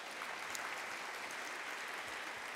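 An awards ceremony audience gives sponsors a sustained round of applause: dense, even clapping from a large crowd that fills the whole stretch without pause.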